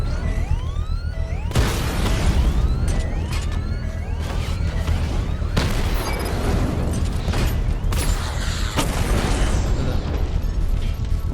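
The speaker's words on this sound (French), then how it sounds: "la bombe est explosée" A bomb goes off in the video game Batman Arkham Knight amid loud, dense action audio. Heavy booms, bursts and mechanical clatter roll on continuously with no pauses, and sweeping tonal effects ring out during the first few seconds.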